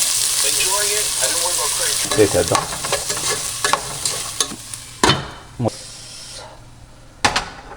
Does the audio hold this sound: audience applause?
no